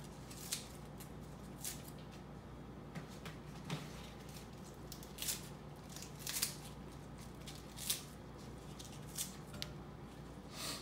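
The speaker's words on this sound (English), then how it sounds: "I just take the scissors, cut mine up." Scissors snip garden-grown Caesar and kale salad leaves in a steady series of crisp, close cuts, each a short bright crunch spaced about a second apart, with no talking.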